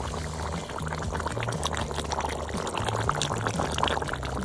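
Water poured into a pan of Hyderabadi masala chicken, a steady liquid splashing and sizzling that runs continuously, close and fairly loud, with no talk.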